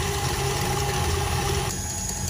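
An electric mixer whips eggs and vanilla for almond-pear tartlets, running as a continuous close whir that shifts slightly in tone toward the end as the speed rises.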